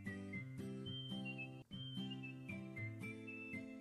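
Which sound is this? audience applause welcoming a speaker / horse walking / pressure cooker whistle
pressure cooker whistle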